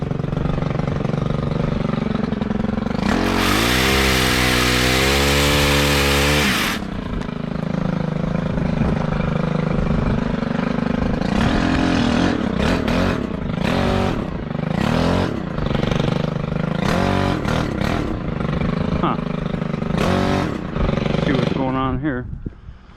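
Gas string trimmer fitted with a TrimmerPlus attachment during a property trim job, its engine buzzing close and loud throughout, with a high-revving burst early on, then fluctuating revs and intermittent cutting noise.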